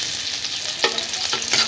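Vegetables sizzle steadily in a hot pan for a Filipino ginisang gulay sauté, with a dense hiss and a few scraping stirs close by, no voices.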